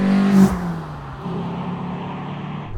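A Renault R19 16S engine revving as the car drives, a steady low drone that dips after a brief louder burst, then settles into a continuous close engine note.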